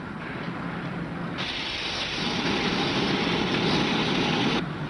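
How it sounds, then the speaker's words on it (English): A standing steam locomotive bleeds off steam in a steady, broad hiss that swells louder partway through and then drops back. No voices. "He's bleeding off his steam."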